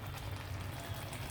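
Dal with sesame oil cake and onion slices bubbles in a pot, a faint soft steady simmer.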